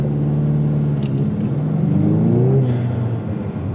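A Ford Mustang with the 10R80 automatic, held on launch control with the throttle floored, drones loudly at a steady high rev that rises slightly in pitch before easing off.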